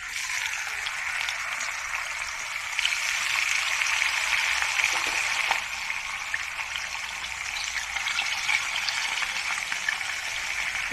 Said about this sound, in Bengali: এখন জাস্ট আমি মাছটাকে হালকা করে ভেজে নিচ্ছি।